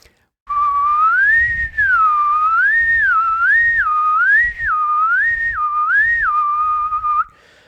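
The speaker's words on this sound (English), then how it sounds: "we whistle a low note and then slide it to a high one and back and" A person whistles close up, sliding from a low note up to a high one and back again repeatedly in smooth wavering arcs, as a tongue exercise for saxophone playing, with a brief breath break midway.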